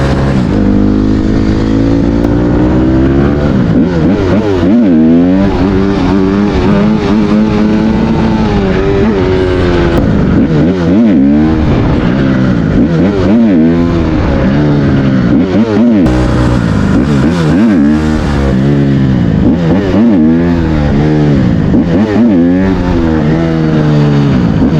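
A Honda CRF150RB dirt bike revs hard again and again with the clutch pulled in to set up a wheelie, loud, close and rhythmic bursts of rising and falling engine pitch, with no talk.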